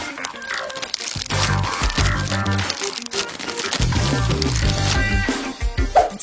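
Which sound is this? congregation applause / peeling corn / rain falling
peeling corn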